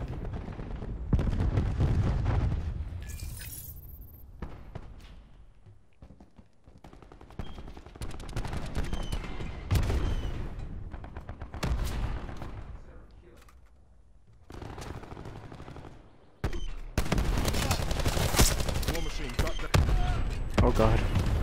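Heavy video game gunfire coming from many directions: rapid bursts and single shots crack loudly in clusters with brief gaps, and a voice speaks between the volleys.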